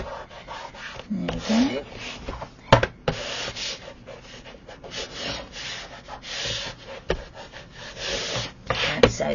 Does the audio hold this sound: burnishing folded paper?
yes